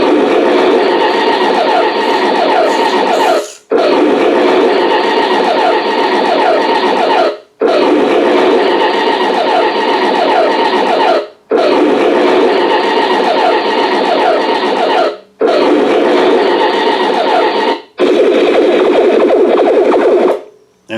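Sound unit of a Martian War Machine model playing a loud, dense mechanical effect in repeated bursts of about three to four seconds, each cut off by a brief silence, with a rattling, clattering texture throughout.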